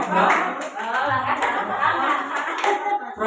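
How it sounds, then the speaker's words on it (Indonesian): An audience in a school curriculum event performs a rhythmic group clap, claps rattling in quick patterned bursts while voices chant over them. "Tepuk tangan untuk Bu Haja dan Bu Nen. Masih ingat tepuk salut."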